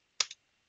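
Keys pressed on a computer keyboard while testing a homemade Apple II-style computer: three crisp, close clicks, two in quick succession and a third after a short pause, in an otherwise quiet room.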